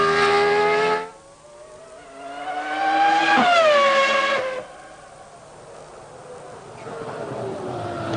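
1998 Formula One car at the Australian Grand Prix sliding under power, its high-pitched engine wailing loudly and rising through gears, dropping away to a quieter whine, then returning as another car swells past.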